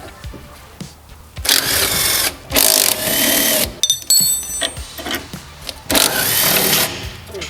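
A tool works loose the lubricated bottom suspension bolt on a basic racecar, producing loud bursts of rapid mechanical whirring separated by short pauses, close by, with a few clicks in between.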